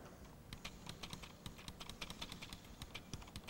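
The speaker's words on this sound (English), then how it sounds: "let's try some keystrokes over here in this editor" Keystrokes typed on a computer keyboard in a DOS text editor at a computer trade show, a quick irregular run of close clicking taps, fairly quiet and without voices.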